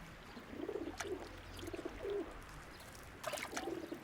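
Pigeons coo in a town centre, several soft, low, rolling calls in short bursts, with gaps between them and a faint trickle of water underneath.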